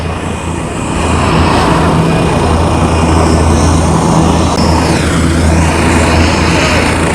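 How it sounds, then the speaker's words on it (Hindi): A helicopter lands near a crowd in the sandy village of Bambu, carrying former Rajasthan chief minister Vasundhara Raje; a loud, close engine roar and rotor wash fill the whole stretch, rising and holding steady. "हेलीकॉप्टर लैंड कर रहा है।"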